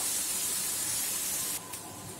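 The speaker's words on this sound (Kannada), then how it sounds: "ಹಾಗಲಕಾಯಿನ ಫುಲ್ ಕ್ರಿಸ್ಪಿ ಆಗೋವರೆಗೂ ಫ್ರೈ ಮಾಡ್ಕೋಬೇಕು" Bitter gourd frying in hot oil until crispy, a steady loud sizzling hiss that runs continuously, then drops slightly in level near the end.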